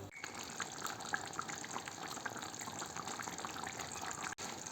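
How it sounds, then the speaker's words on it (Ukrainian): Sulphur shelf mushroom stewing with sour cream and water in a pot, bubbling and simmering in a steady, continuous soft wash of liquid noise with no pauses. "От так воно булькає."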